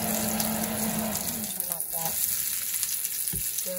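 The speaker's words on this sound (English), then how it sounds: "Just keep turning them so they cook on all the sides. They're getting nicely brown." Italian meatballs fry in oil with a steady sizzle and occasional crackles as they are turned, heard close up with brief low knocks from the pan.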